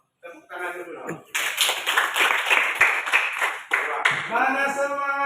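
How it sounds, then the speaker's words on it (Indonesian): An audience of students at a teacher-training performance test in an Indonesian classroom claps in a burst of quick, close, crowded handclaps. Voices shout around the clapping before it starts and again after it ends. "tepuk tangan dulu"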